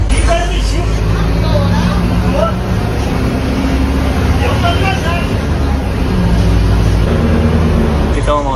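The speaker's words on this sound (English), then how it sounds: "We found the right bus and now we are on the way." Riding a bus in Brazil: a steady, loud engine and road rumble runs the whole time, with a murmur of voices and passenger chatter mixed in.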